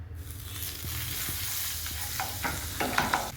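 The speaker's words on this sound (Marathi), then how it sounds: "आता मी पॅन मध्ये थोडंसं बटर टाकते" Butter sizzling and melting in a hot pan while paneer butter masala is being made, a close, continuous crackling hiss with small sharp pops and scraping stir sounds building toward the end.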